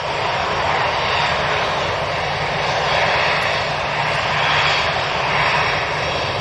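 An EasyJet passenger jet at Manchester Airport roars steadily with a loud, broad engine rush that swells and eases slightly while departing, with no voices over it.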